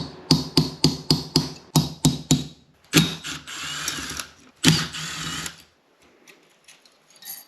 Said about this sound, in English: we're gonna tap those flat so we can get a socket on here